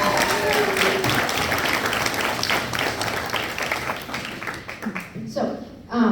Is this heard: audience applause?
yes